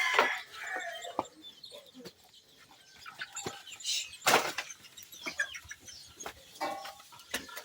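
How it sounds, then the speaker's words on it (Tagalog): Backyard chickens clucking in scattered short bursts, some close and sharp, others softer, with occasional wing flaps amid quiet gaps. "Sunod na umano yung mga manok namin guys."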